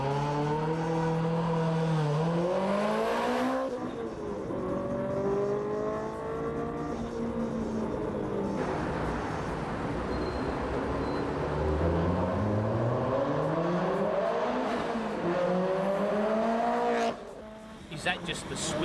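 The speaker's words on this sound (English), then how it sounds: "Is that just the sweetest engine note you've heard?" Japanese performance car engine revving hard and driving, rising and falling harmonic engine note sweeping up through the gears in several pulls, loud and close, with brief tire noise and a near-silent pause near the end.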